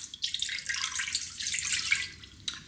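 Cold water pours steadily into an Instant Pot inner pot while hard-boiled eggs are being prepared, a bright continuous splashing trickle that runs close and alone for under three seconds.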